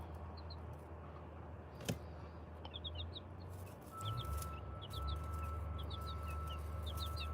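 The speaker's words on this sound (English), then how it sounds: "So I have no idea what kind of chickens they are, but they're auto-sexed, supposedly." Young auto-sexed hens give soft, scattered clucks and high peeps in short clusters against a low steady hum, fairly faint and close by.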